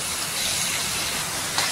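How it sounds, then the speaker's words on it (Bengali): Food sautéing in a pan, a steady loud hiss of sizzling oil that continues without a break. "টকটা ফাইন করে একটু কষিয়ে নেবো।"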